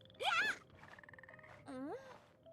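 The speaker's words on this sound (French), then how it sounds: "On entend les grenouilles." Frogs croaking in Genshin Impact, two distinct rising, warbling calls about a second apart, loud and close with no talk over them.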